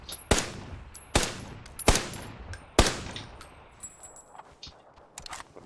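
Gunfire in the battle game PUBG: four loud, sharp shots spaced about a second apart, then quieter, more distant pops and small impacts trailing off, with no talk.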